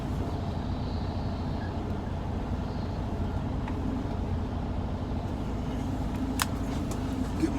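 Flatbed semi truck with trailer backing up, a steady low engine rumble throughout, moderately distant, with a few faint metallic clanks near the end and no talk.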